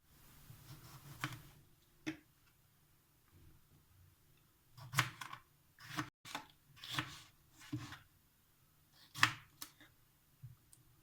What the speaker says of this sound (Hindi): इसी तरह आप सारे अपने टमाटर काट लेंगी